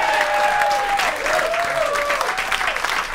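An audience applauds a legendary blues band's induction into the Blues Hall of Fame, with dense sustained clapping and crowd noise and a sung or spoken voice gliding faintly above it.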